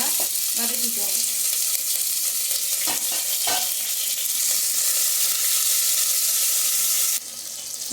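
Small shallots and curry leaves sautéing in hot oil for idli sambar, a steady close sizzle with a few stirring scrapes and clacks of a spoon against the pan throughout.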